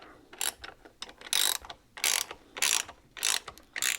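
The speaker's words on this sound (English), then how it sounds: "These ratchet box wrenches are great." Ratchet box wrenches tightening bolts while bench-mounting a Frankford Arsenal X-10 reloading press: a steady run of close, loud ratcheting clicks in repeated bursts about every half second to second, with no talking.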